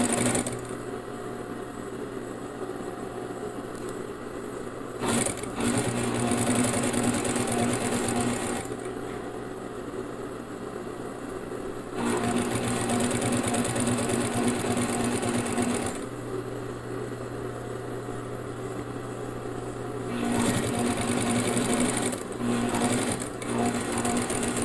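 A sewing machine stitches fabric for a Christmas trivet in steady whirring bursts, running several times with brief pauses in between, close and clear with no talk.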